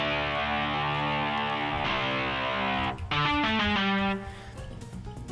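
A bright, buzzy boosted synth lead from a Midnight Motorist remix plays sustained notes and a few sharp stabs, thick with harmonics and slightly distorted, loud and upfront.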